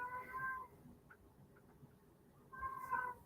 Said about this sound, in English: My cat is screaming at a wall.